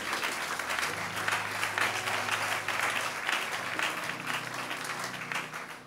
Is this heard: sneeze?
no